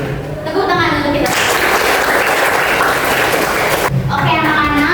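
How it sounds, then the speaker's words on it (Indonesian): Classroom applause from a group of children, a dense burst of clapping lasting a few seconds, with a teacher speaking briefly before and after. "Tepuk tangan untuk kita."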